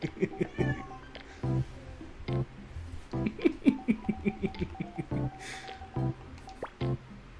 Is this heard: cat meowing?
yes